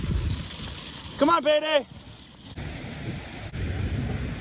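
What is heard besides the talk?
heavy rain and hail falling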